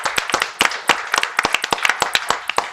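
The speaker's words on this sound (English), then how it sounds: "Can you please help me give them a round of applause?" Audience applause at an evening talk, a lively cluster of close, sharp claps from a small group, irregular and overlapping, continuing throughout at a fairly loud level.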